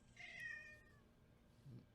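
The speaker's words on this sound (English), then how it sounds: "Oh, I hear a cat." A cat meows once, a drawn-out, wavering cry that is fairly clear and close, followed by quiet room sound and a low thump at the end.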